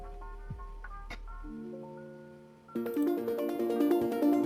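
A layered synth arpeggio from a future bass track enters after sustained pad tones and brief effects, then pulses in quick, bright repeating notes that build to a fuller, louder texture.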